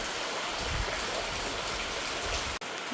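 Steady rain falling in a village, a dense continuous hiss of drops with low patter, close and fairly even throughout apart from one brief dropout near the end.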